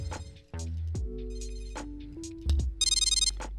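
A Moto Tag Bluetooth tracker plays its find sound, a short series of bright electronic ringtone chirps, fairly quiet and close, rising in rhythmic pulses near the end, with no talk over it.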